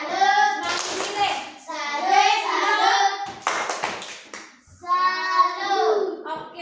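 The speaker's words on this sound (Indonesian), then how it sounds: "Tepuk salut untuk Bompi." A class of fourth-grade schoolchildren clap a rhythmic tepuk salut routine in bursts of sharp hand claps, chanting together between and over the clapping.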